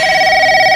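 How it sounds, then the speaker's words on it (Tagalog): A home telephone rings with a steady electronic tone, loud and close, held without a break for under a second. "Nagre-ring yung telepono natin."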